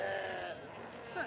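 Sheep bleat inside a shearing shed at an agricultural show, a wavering bleat close by over a dense, noisy crowd and the bustle of the shed.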